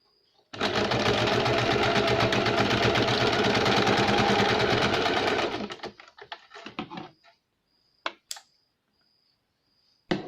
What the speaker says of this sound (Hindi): दूसरे साइड को भी हम इसी तरह सिलाई लगाएंगे।